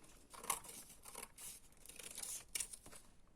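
Scissors snip through paper for a junk journal, making several quiet, close cuts at an irregular pace with no talking.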